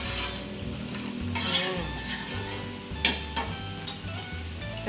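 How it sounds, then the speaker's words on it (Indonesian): Boiling sugar syrup for steamed red sticky rice sweets bubbles in a pot while a spoon stirs it, giving steady simmering hiss with occasional scrapes and clinks against the pot, close by with no talk. "larutan gulanya sudah mendidih"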